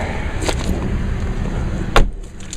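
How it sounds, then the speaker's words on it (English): A car door on a 1999 Malibu shuts with a single short thud near the end, following faint rustling inside the vehicle. "Let me shut this door."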